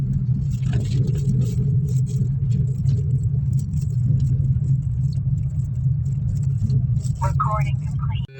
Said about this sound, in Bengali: সাঁতরাগাছি রেলওয়ে ওভারব্রিজে কিন্তু ভালোই ট্রাফিক থাকে, আজকেও আছে